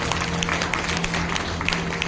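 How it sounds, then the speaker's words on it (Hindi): Applause from the audience at a Shrimad Bhagwat Katha gathering in Mayur Vihar Phase 2, a steady dense clapping that fills the whole short moment at an even level. "जोरदार तालियां।"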